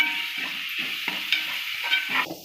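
Tomato sautéing in a pan for crab gravy, a loud close sizzle of frying with rhythmic stirring scrapes every half second or so, with no talk.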